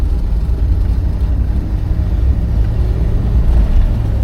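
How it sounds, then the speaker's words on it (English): Low, steady exhaust rumble from a 1961 Cadillac Series 62 convertible on a top-down test drive, a quiet, smooth drone with no talk over it. "You can hear the exhaust is nice and quiet, just the way you want it."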